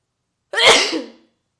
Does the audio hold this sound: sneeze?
yes